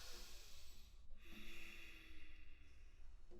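Yoga class participants breathing forcefully through the nose during an exercise, faint repeated snorting exhalations and hissy breaths, close and quiet.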